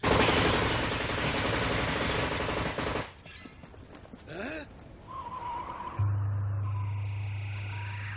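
Rapid automatic gunfire from the Ghost in the Shell opening scene, a rooftop shooting through a window, rattles in a dense, loud burst for about three seconds. Quieter scattered effects and a sustained electronic tone follow.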